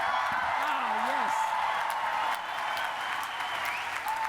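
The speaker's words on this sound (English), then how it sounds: "I would like to have some more applause or I can get excited about talking. So how about do it again?" Sustained audience applause fills a hall at an MIT undergraduate ceremony, steady and broad for several seconds, with a brief voice heard near the start over the clapping.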